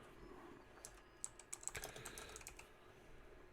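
Keys tapped on a computer keyboard in a quiet room, a brief irregular burst of clicks, some crisp and close, then softer scattered taps, with no talk.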